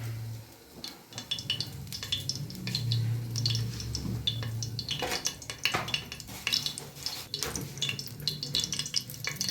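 Cumin and dried red chillies sizzling and crackling in hot oil, with scraping and stirring against a pan and occasional clinks of utensils.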